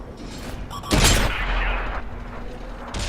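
A tank gun fires in a tank battle video game, one sharp blast followed by a rumbling decay under steady background engine noise.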